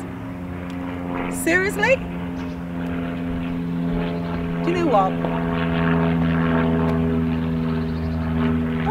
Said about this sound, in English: What is this with these planes?